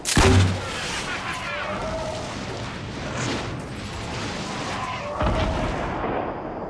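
Rapid gunfire in Fortnite Battle Royale, a loud opening blast and then a fast run of shots across the clip, with a second sharp burst near the end.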